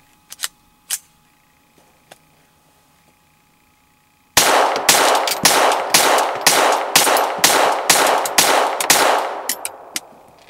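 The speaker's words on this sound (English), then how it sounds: "This is a GSG 1911 22 long rifle. We're firing standard ammunition, and with no suppressor," An unsuppressed GSG 1911 .22 Long Rifle pistol fires standard ammunition in a rapid string of about a dozen loud, sharp cracks after a few quiet clicks. No one speaks.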